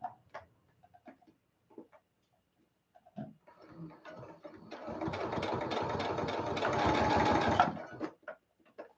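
A sewing machine stitches recycled craft ears in a rapid, steady mechanical whir lasting a few seconds, with soft handling noises and scattered clicks before it starts.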